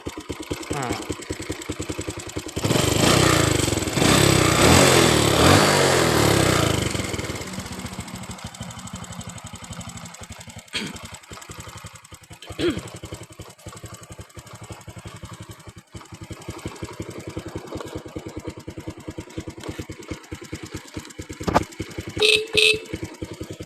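A motorcycle with a sidecar idles nearby, its engine loud and chugging for several seconds before settling into a quieter, uneven running putter, with someone talking over it.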